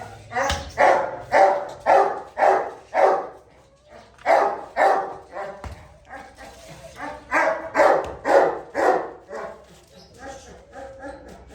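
A Gultair bully dog barks repeatedly in quick bursts, close and loud, with short pauses between volleys and a voice talking faintly underneath.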